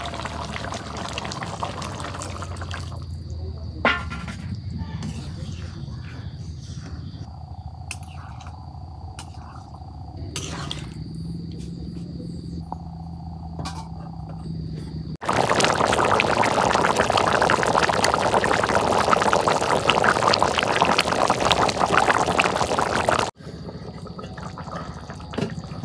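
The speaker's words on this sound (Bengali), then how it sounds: "এখন ঝোলের পানি দিই" Water pours into a pot of braised chicken and new potato curry, a steady rushing pour that grows loud and broadband for several seconds after quieter stirring sounds.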